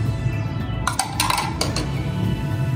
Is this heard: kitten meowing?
no